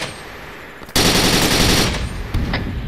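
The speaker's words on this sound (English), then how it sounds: "we're taking strong fire from the south" Gunfire in the video game ARMA 3: a loud, sustained burst of rapid automatic fire erupting suddenly, then a few trailing shots, with no voices.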